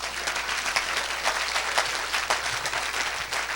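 A church congregation applauds for Jesus during a bilingual sermon, with dense, steady clapping that fills the room and holds evenly throughout without any talking.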